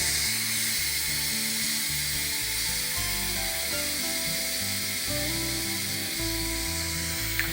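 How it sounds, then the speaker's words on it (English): A Secura 6-in-1 electric pressure cooker with an 18/10 stainless steel pot, just done cooking edamame, vents steam in a steady, loud broadband hiss that runs unbroken for the whole stretch, with a low tonal backing underneath. "Now that the edamame is finished cooking, we're simply again going to release the pressure."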